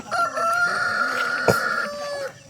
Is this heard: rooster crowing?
yes